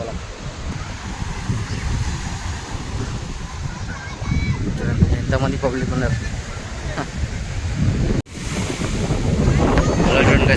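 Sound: big ocean waves on beach

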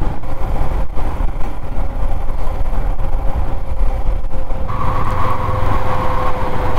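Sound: motorcycle engine running roughly on mountain road

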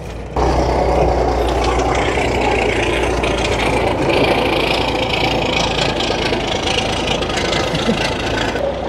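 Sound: 1981 GMC Astro cabover Big Cam diesel engine running

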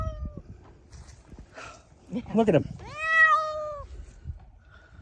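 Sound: cat meowing

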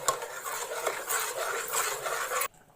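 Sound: stirring kadabu mixture with homemade ghee

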